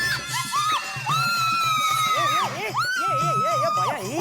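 A woman screams and shrieks excitedly in a sustained, loud burst of wavering high-pitched cries, set in a domestic comedy scene in a housing society.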